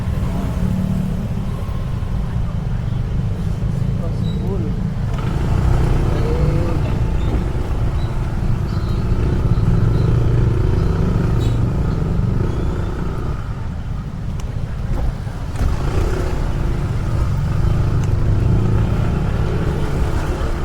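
Dense Bali road traffic with many cars, buses and engines revving and rumbling close by, a steady broadband roar for the whole stretch that swells and dips as vehicles pass.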